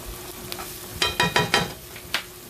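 Onions frying in a pan for lasagna, a soft sizzle punctuated by several loud scraping stir strokes in a quick cluster, then one more scrape, close to the pan with no talk.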